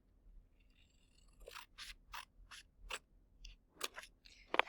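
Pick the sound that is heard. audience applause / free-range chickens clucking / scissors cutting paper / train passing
scissors cutting paper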